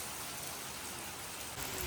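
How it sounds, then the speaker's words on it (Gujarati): A sudden heavy downpour falls steadily in a dense, even hiss that stays close and constant, growing slightly louder near the end. "અચાનક વરસાદ ચાલુ થઈ ગયો જાડો વરસાદ"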